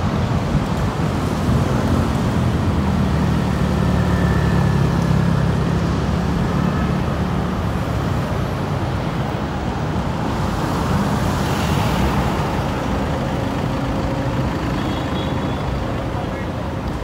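Road traffic streams past near Ninoy Aquino Airport in Manila at sunset, a continuous dense roar of cars and heavier vehicles, with voices murmuring beneath the constant wash.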